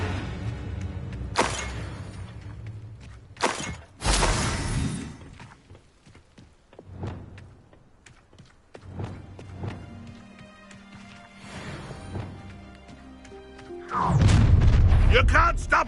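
Spell impacts from an Expelliarmus duel in Hogwarts Legacy: several sharp booming thuds and whacks burst out among busy game sounds, with a loud rumbling blast near the end, while a voice talks over parts of it.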